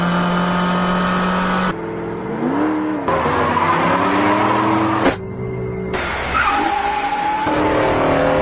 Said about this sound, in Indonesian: mereka mendapati sebuah mobil Dodge Challenger berwarna hitam yang melaju kencang